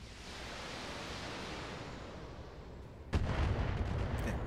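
Steady rushing roar of heavy mech weapons fire in BattleTech, then a sharp louder burst near the end as another volley launches.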